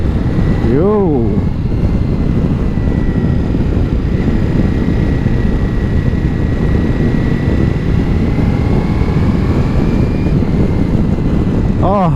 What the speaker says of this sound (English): Oh, I love the auto blipper.